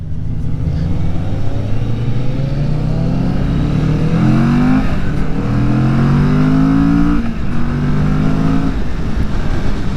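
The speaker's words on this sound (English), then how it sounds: "it's a good, smooth, very smooth accelerating bike" A 2020 Kawasaki Vulcan S motorcycle engine pulls loudly and smoothly up through the revs, easing off and climbing again across several gear changes, close and steady, with no one speaking.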